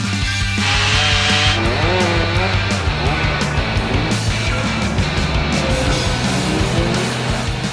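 A chainsaw runs steadily close by, cutting through a section of a hazardous tree during removal, its engine note rising and falling as it bites into the wood.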